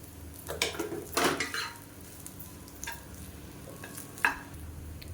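Mixed vegetable masala rice being stirred in a pan for a lunch box, with a few scraping and clinking strokes of a utensil, the loudest near the start and one sharp tap near the end, over a low kitchen background.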